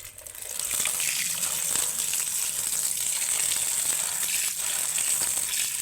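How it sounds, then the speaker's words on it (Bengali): Chopped ash gourd pieces being washed in water, a steady close splashing and sloshing rush that runs continuously and loudly throughout, with no voices. "এবার আমি এই চাল কুমড়োটাকে ধুয়ে নিচ্ছি"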